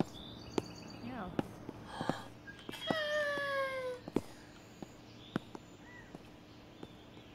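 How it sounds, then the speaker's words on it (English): Several cat meows from a video game, with one drawn-out, rising-then-falling meow standing out amid faint background tones and sparse clicks, fairly quiet and without talk over it. "The cats are the only good thing in this game."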